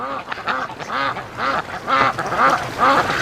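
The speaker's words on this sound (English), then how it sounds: "we got a goose beating on a duck" Free-range ducks quack loudly and close in a steady run of repeated calls while a goose attacks one of them, with no talking.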